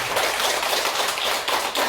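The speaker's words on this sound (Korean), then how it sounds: "박수 한번 쳐보세요" An audience at a laughter therapy seminar claps hands in a steady, dense patter of many overlapping claps, fairly close and with no talking.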